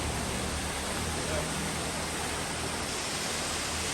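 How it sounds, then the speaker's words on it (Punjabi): A large mountain waterfall roars as a dense, steady broadband rush, unbroken and unchanging throughout, with no voices over it. "ਇਹ ਪਹਿਲਾ ਇਹੋ ਜਿਹਾ ਵੱਡਾ ਝਰਨਾ"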